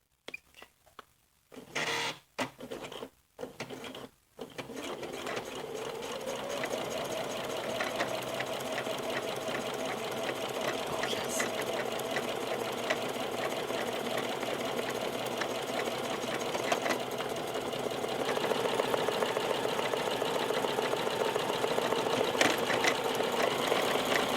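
A sewing machine stitching a buttonhole starts with a few short bursts, then runs steadily at a fast, even rhythm, whirring and clattering up close with no voices.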